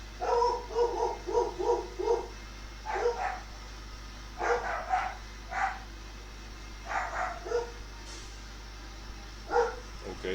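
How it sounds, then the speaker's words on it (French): Dog barking in short repeated bursts, several volleys spread across the stretch at moderate distance, with a low steady engine drone from a modded truck underneath in a SnowRunner game session near a garage. "ça aboie, je ne sais pas pourquoi"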